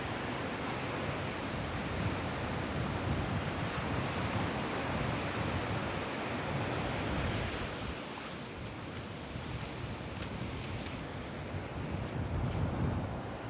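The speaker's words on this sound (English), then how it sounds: "Look at that surf." Heavy ocean surf rolls in at Hastings Pier, a continuous loud broadband wash of breaking waves with wind buffeting the microphone throughout.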